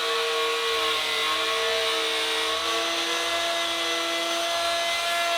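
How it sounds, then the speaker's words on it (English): A power tool run through a dado jig to cut a shelf dado in a wall cabinet panel, giving a continuous high-pitched whine with steady tones, loud and unbroken for several seconds with no speech. "I then cut the dado for the shelf with the exact width dado jig,"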